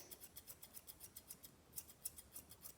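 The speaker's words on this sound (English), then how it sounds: "I'm going to take my thinners." Thinning shears trim the ear hair of a Nova Scotia Duck Tolling Retriever during grooming. The snips come quietly and close up in a quick, even rhythm, with no voices.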